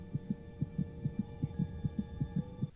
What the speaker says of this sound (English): Your heart's beating pretty fast.